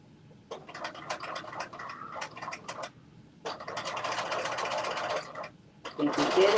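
A sewing machine stitches a rolled hem on a jumpsuit in quick bursts of rapid mechanical chatter, stopping and restarting a few times, close and loud, with someone talking over it.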